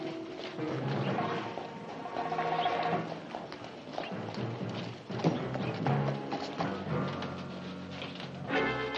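Horse hooves clip-clop at an uneven walking pace in a 1960s Western setting, fairly quiet and mixed with other faint background sounds.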